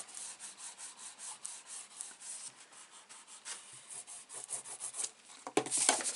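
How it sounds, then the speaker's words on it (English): A burnishing tool rubs paper down onto a handmade card, a soft, rhythmic scraping of close, repeated strokes that ends with a brief louder scuff. "Just get this over, give it a good burnish."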